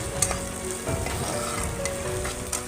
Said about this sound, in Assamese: সেইখিনিও লৰাই অকণমান সময় ভাজি ৰাখিম।